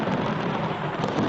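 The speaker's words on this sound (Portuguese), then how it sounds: "Naquela noite, uma tempestade se abateu sobre Jerusalém." A thunderstorm over Jerusalem at night gives a steady, dense roar of rain and rumbling thunder, loud and continuous with no voices.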